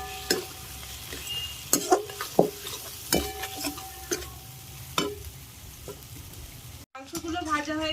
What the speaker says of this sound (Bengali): মাংসগুলো ভাজা হয়ে গেছে, আমি তুলে নিচ্ছি।